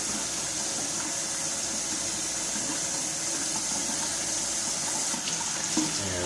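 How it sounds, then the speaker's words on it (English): Warm tap water runs steadily over juicer parts from an Omega VSJ843 vertical slow juicer, a constant hissing stream with a faint splash or clunk near the end. "Warm water does a good job to break down this pulp."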